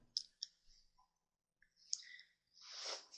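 A computer mouse clicks sharply twice, then once more after a pause, among faint rustles of handling during website setup.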